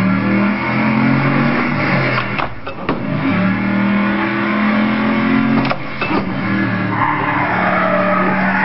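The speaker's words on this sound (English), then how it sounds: "And then we slowly let go of the clutch and slowly apply gas." A manual car pulls away as the clutch is released and gas applied, a loud continuous engine roar with tire noise and a couple of abrupt shifts in tone, sustained throughout.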